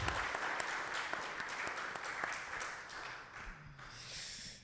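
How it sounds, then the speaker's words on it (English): Audience applause at a debate on evil and suffering between an atheist and a Christian, a steady wash of clapping from a crowd that holds for several seconds and thins out toward the end. "let's give it a round of applause, please"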